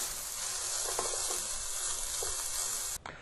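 Pancetta sizzles in a pan heated over medium-high heat, a loud, close, continuous crackling hiss with a few brief stirring scrapes, cutting off abruptly near the end.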